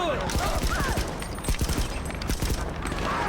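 M4A1 rifle fire in a CSGO match: quick bursts of clipped, snappy shots with a mechanical rattle, running continuously beneath someone talking.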